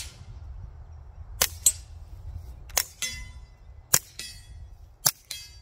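Subsonic .22 rounds fire through a Silencerco Sparrow suppressor, giving four sharp, moderately loud cracks spaced about a second apart over a low background hum, each with a brief metallic ring.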